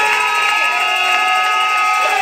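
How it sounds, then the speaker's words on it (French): Wedding guests cheer for the groom, a dense, sustained wash of voices and shouts with bright, whistle-like tones running steadily throughout, loud and close. "pendant que nous acclamons pour lui"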